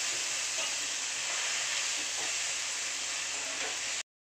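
Fenugreek leaves (methi) sautéing in a pan with moong dal: a steady, close hiss of sizzling that runs continuously for about four seconds and then cuts off abruptly.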